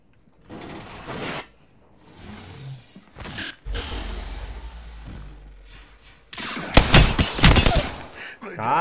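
A video game firefight produces several bursts of gunfire in short, loud clusters, with rustling and handling noises between them.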